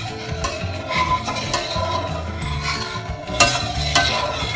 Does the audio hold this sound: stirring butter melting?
yes